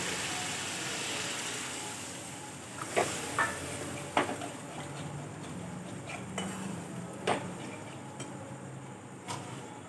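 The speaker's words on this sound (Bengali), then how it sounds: "মশলাটা আমার ভাজা হয়ে গেছে, আমি জল দিয়ে দিচ্ছি প্রয়োজন মতো।" Water is poured into a pan of fried spice masala, bringing a close steady bubbling sizzle, with several sharp clinks and scrapes of a utensil against the pan scattered throughout and no talking.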